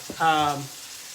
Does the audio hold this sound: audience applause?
no